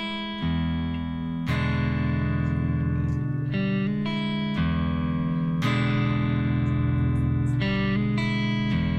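Slow, relaxed blues guitar, clean tone with ringing chords and bass notes, unhurried and moderately quiet, no voice.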